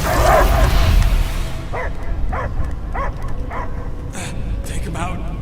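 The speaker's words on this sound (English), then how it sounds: "I hear only barking" A dog barking in the Guardians of the Galaxy video game, a series of sharp, evenly spaced barks and yips at close range, following a louder opening burst of noise and voice.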